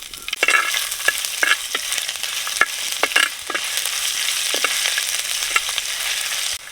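Curry leaves and fresh ginger fry in hot oil for a village-style Buthai Pulimunchi fish curry, giving a steady close sizzle broken by repeated sharp scrapes and clicks of stirring, with no talking.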